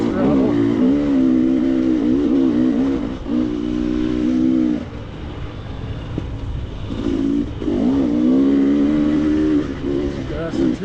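Enduro motorcycle engine under throttle on a gravel trail in Colorado, loud and close, droning in long surges that dip briefly and then climb again, with a rider talking over it.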